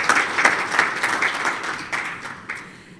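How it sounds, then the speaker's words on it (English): Participants at a patent drafting training session clap their hands in a short round of applause that gradually thins and fades over about three seconds. "Please clap your hands."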